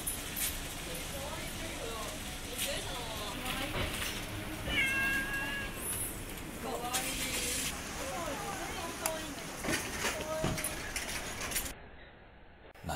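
A cat meows several times on a street in Nagaoka, Niigata, Japan, in short, clear calls spread through the clip, while a person talks to it and light street noise fills the background.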